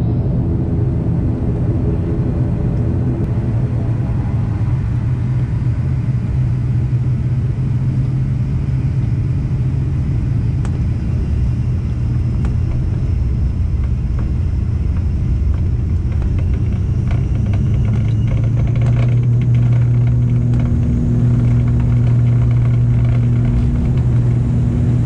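Precision Air airliner taxiing at an airport in Tanzania, heard from the cabin as a loud, continuous engine rumble and roar that swells slightly toward the end, with a faint whine above it.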